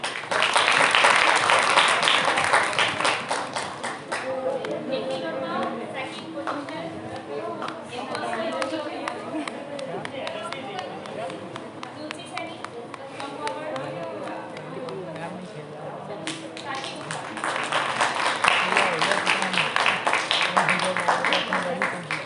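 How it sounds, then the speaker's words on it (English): Sustained applause from an audience at a college annual function, loudest at the start and again near the end, with chatter and voices mixed in throughout. "Clap for them."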